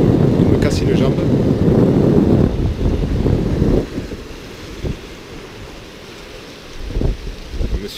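Cold wind gusts buffet the microphone on a beach, loud and rumbling for several seconds before easing into quieter surf-like noise with a few brief bursts near the end.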